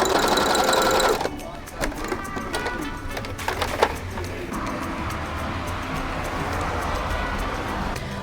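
A sewing machine stitches yacht cushion fabric aboard a sailboat, a steady fast mechanical whir running almost continuously, with pigeons cooing nearby and occasional knocks in the background.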